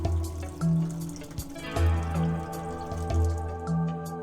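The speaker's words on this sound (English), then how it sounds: "Correctly measure the required quantity of cleaning agent and pour it into the clean water tank." Cleaning agent is poured into the clean water tank of a Scrubmaster B70 floor scrubber, a gurgling, dripping trickle of liquid that runs steadily over a low background hum.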